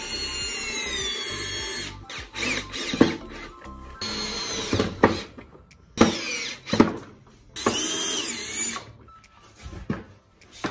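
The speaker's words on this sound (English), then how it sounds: "go ahead and put your screws in." A power drill drives screws into lazy susan hardware in several whirring bursts of rising and falling pitch, close and loud, separated by short pauses.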